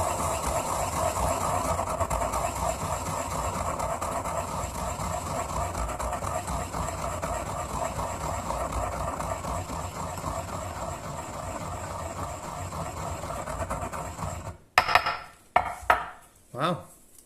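Onions and salt being ground in a pestle and mortar give a steady gritty scraping and rolling that runs for a long stretch, ending with several louder knocks and clacks of stone.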